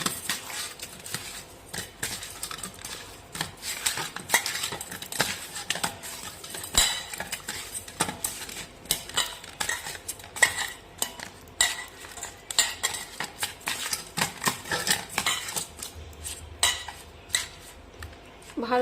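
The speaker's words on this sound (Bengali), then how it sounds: "এখন আমি মাছটা নুন হলুদ দিয়ে মাখিয়ে নেব।" Fish being rubbed with salt and turmeric in a bowl for bata pona macher jhol, giving steady wet squelching and repeated light clinks of hands and utensil against the bowl, close and without talk.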